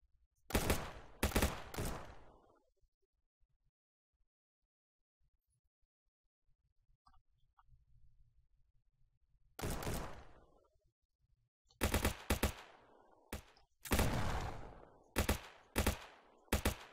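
AK rifle fire in the Streamer Life Simulator 2 video game, loud sharp bursts of automatic shots in clusters separated by a long quiet gap, then rapid repeated volleys near the end.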